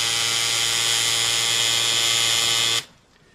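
A tattoo machine buzzes loudly and steadily at close range for almost three seconds, then cuts off abruptly, leaving faint room noise.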